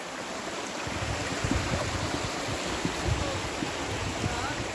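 Ravedon Brook flows under a footbridge with a steady, moderately quiet babble and rush of water, continuous throughout with faint gurgling detail.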